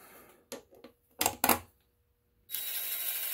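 A drill runs in short bursts, briefly snugging bolts into an oil galley gasket cover during an engine repair, with a few quick whirs and pauses before a steadier hiss of noise toward the end.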